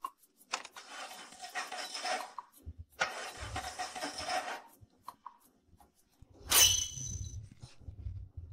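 A car engine cranks twice in long grinding bursts without catching, stalling out between attempts, followed after a pause by a short louder surge and low rumbling.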